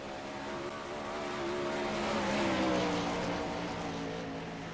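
Dirt 410 sprint cars race on the dirt track at Charlotte, their engines a loud, continuous high-pitched roar that swells and fades slightly as the pack passes, with no talk over it.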